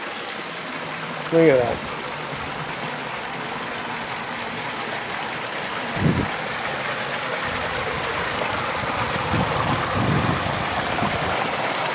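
Water spilling down a rock-surrounded backyard waterfall at a house on Rock Spring Street in Thousand Oaks, California, a steady broadband rush throughout, with brief spoken remarks and a couple of short knocks over it.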